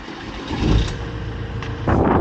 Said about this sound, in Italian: Quindi ora mettiamo in moto e andiamo.